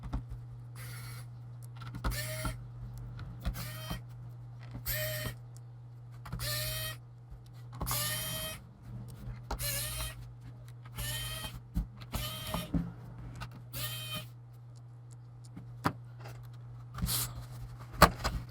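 Small T5 pentalobe screws being backed out of the bottom case of a 13-inch mid-2014 MacBook Pro, heard as a long series of short, close squeaky clicks and scrapes in an irregular rhythm over a steady low hum, with no talking.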